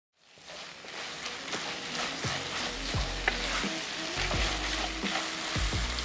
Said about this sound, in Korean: 중약불에 올려 숨이 죽을 때까지 볶아주고